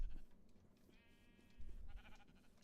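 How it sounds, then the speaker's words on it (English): A faint Minecraft sheep bleat rises over quiet rumbling, then a second shorter bleat follows, both fairly soft and unaccompanied by speech. "Oh, okay, we got a lot of sheep here."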